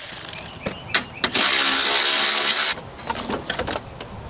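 Ratchet wrench turning a 10mm battery bracket bolt on a Honda CR-V, giving a few quick clicks, then a steady buzzing burst of ratcheting in the middle, followed by more scattered clicks and knocks.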